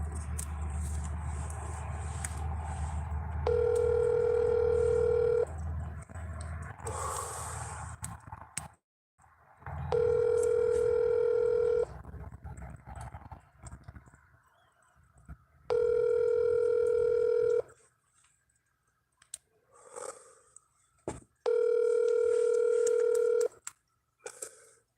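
Four long bursts of an outgoing phone call's ringback tone, each a few seconds long and separated by pauses, with faint touch-tone beeps, crackle and quiet background noise between the rings.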